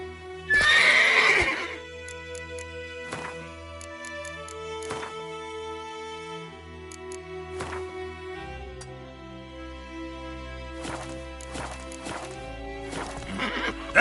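Roach, Geralt's horse in The Witcher 3, lets out a loud whinny at the start, then trots with regular hoof clip-clops under calm game music, close and clear.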